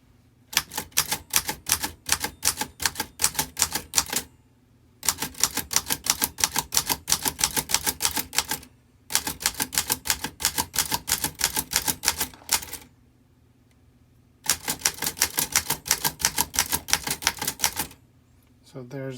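A portable typewriter clacks in rapid, loud bursts of keystrokes, four long runs separated by short pauses, with a carriage-return ding and slide near the end.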